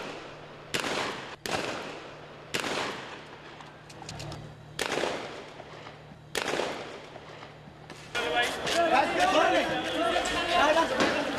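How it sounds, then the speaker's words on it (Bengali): Police sound grenades and gunfire during a night street clash with Hefazat-e-Islam protesters in Motijheel, Dhaka: five sharp, loud blasts at irregular intervals, each with a decaying echo, followed by dense crowd noise and shouting. "Sound grenade, tear gas can ও গুলি চালিয়ে তাদের ছত্রভঙ্গ করার চেষ্টা পুলিশের।"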